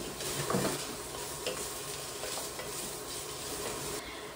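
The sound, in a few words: kielbasa frying in olive oil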